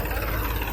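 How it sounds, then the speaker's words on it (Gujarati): A tractor engine on a farm, a dense low rumble close by and steady through a brief moment, no voices. "જા ટ્રેક્ટર જાય."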